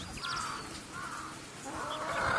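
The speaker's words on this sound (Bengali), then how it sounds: "এই যে আমার একটা টাইগার মুরগি" Soft, faint clucking from a chicken, a few short calls over a quiet background hiss.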